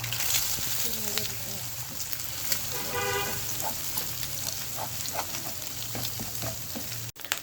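Egg cracked into a hot pan with spices for a homestyle egg masala pasta, frying with a steady close sizzle throughout, with faint stirring clatter and background noise.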